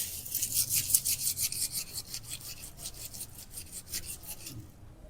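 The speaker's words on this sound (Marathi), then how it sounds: "असं तुम्ही हाताने चोळून घेतला तरी सुद्धा याच्या पाकळ्या लगेच सुटतात" Garlic cloves being peeled by rubbing them between the hands, a dry, rhythmic papery rustle of skins close by, steady for several seconds before tapering off.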